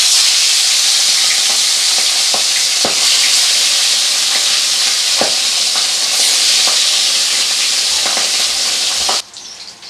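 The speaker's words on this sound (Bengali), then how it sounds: "তো এবারে এক এক করে মাছগুলোকে ভেজে নেব। তেল কিন্তু গরম হয়ে গেছে।" Pieces of katla fish fry in hot oil, giving a loud, dense, continuous sizzle up close, dotted with sharp pops and crackles, cutting off abruptly near the end.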